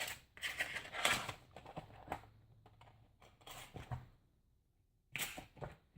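Scissors cut through a lace-technique paper card in a few quick bursts of crisp snipping and rustling, close up and fairly quiet, with short pauses between cuts.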